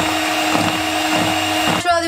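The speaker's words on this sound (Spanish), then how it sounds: "vamos a primero revolver así con la batidora." A steady electric hand mixer whirs loudly and continuously, churning brownie batter at constant speed before its pitch shifts briefly near the end.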